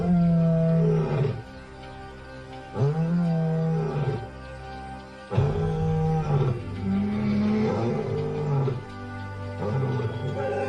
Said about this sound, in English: Their courtship continues as the pair roars in chorus to strengthen their